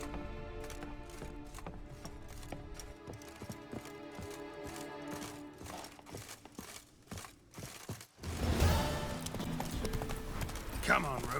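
Hoofbeats of Roach, the horse in the video game The Witcher 3, clip-clopping in a steady rhythmic trot, then giving way to louder, busier galloping and movement noise; speech is also present.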